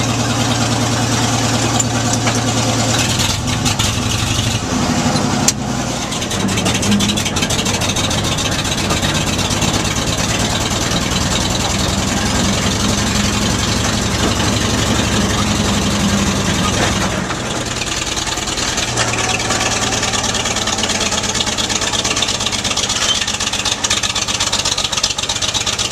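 An old Lombard gas log hauler engine runs steadily at close range, a loud continuous mechanical chugging with a deep low hum that shifts briefly partway through, heard alone throughout.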